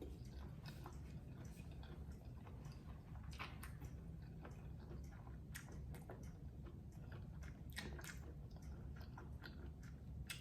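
Crunchy blanched squid, quickly dipped in boiling water, is chewed close to the mic in a steady run of soft crunching and wet squishing bites over a faint low background hum.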